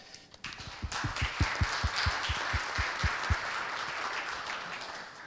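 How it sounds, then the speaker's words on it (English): A conference audience at a digital transformation event gives itself a round of applause, loud and dense crowd clapping with some heavier thumps early on, holding strong throughout. "give yourself a round of applause"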